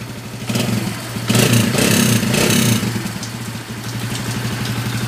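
A Barako Uno motorcycle from Baliwag, Bulacan fires up at once and settles into a steady, clattery idle, with a brief louder rise in the middle before it drops back to a rough, even rumble.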